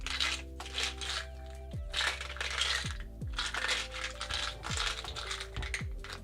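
Small rune stones clatter and click together in repeated rustling bursts, shuffled close by over soft background music.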